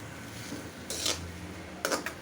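Spoon stirring oil in a cooking pan while preparing baila fish, two brief metallic scrapes over a quiet kitchen background.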